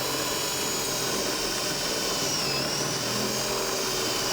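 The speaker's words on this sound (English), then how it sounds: "And just drill through. And the drill." A continuous high-pitched motor whine drones steadily at close range as a power drill drills a pilot hole without pause.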